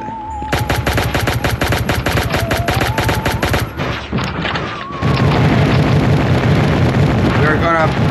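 Rapid automatic gunfire from the mobile shooter game Pixel Gun 3D, loud and close, fired in dense sustained bursts with heavy booming impacts, then a short lull and more chaotic shooting mixed with game effects.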